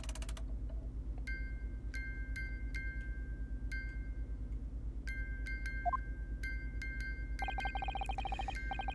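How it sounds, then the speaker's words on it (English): A music box in the Ace Attorney video game plays a sparse, bright chiming melody of single plinked notes over a steady low hum, turning into a denser run of chimes near the end. "It's the defense's belief that the sound emanating from this music box is not supposed to be music."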